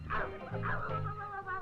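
A dog gives a few quick yipping barks close by, some faint and whiny, in a 1971 film scene.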